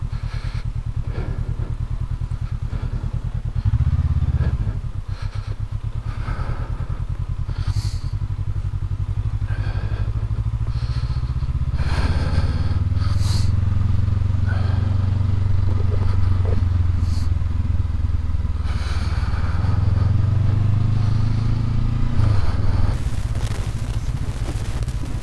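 A 2019 Honda CB500X motorcycle ridden off-road on slippery trail terrain in Oregon, its engine a steady, close drone that rises and falls with the throttle, with clattering from the ground and faint wind buffeting throughout.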